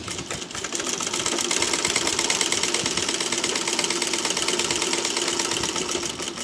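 Sewing machine stitching a fabric strap onto a women's top, a steady fast mechanical chatter running continuously and close up with no talk.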